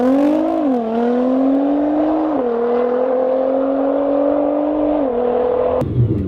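A Nissan GT-R launches hard with launch control and pulls through several gear shifts, its engine note climbing steadily between brief dips at each shift, loud and close before cutting off sharply at the end.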